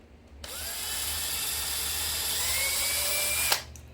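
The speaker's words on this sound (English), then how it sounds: "we're just gonna drill a hole right in the middle, in the top" A power drill starts abruptly and whines steadily at high pitch for about three seconds, loud and close, drilling a hole in the top of a jewelry hanger, then cuts off sharply.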